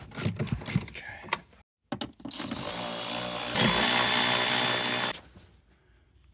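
An impact wrench fitted with extensions works a bolt loose inside a neglected Jeep Commander. A few light knocks and clicks lead into a loud, harsh rattling burst of about three seconds, which then stops.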